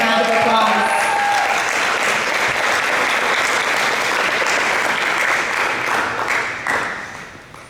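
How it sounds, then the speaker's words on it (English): An audience applauds a student at a school board meeting with sustained, dense clapping that holds steady for several seconds, then thins out and fades near the end, with some voices mixed into the crowd. "Let's give Maria Jenkins a round of applause"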